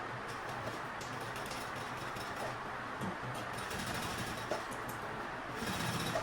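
A sewing machine runs a steady, dense whir while stitching the seam of a teacher's tote bag with its lining, continuing unbroken for several seconds at close range.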